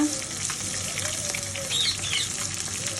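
Spices with a paste of ground ginger, garlic and cumin frying in a pan, a steady close sizzle with soft stirring and scraping throughout, no talking.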